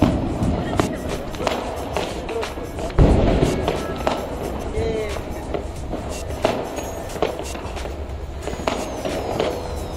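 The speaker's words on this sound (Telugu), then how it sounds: "ఎక్కడ చూసినా టపాకాయల శబ్దం అయితే మారుమోగిపోతుంది" Diwali firecrackers burst during a family celebration, sharp pops and cracks scattered near and far at an irregular pace, with one heavy bang early on, over a busy outdoor background.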